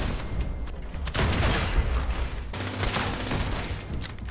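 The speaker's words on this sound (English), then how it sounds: "Entering the third floor, we immediately come across heavy robot and turret fire." Heavy robot and turret gunfire in a video game: dense, sustained bursts of automatic shots and booms rattling almost continuously and loudly throughout, with no talking.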